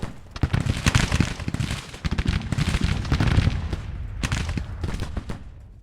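Musket volleys crackle from soldiers in a Civil War game battle, with dense, repeated near and distant shots overlapping in ragged bursts throughout.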